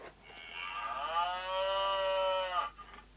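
A moo sound box inside the card game MOW lets out one long, clear mechanical cow moo when opened, sustained for about two and a half seconds, close and alone.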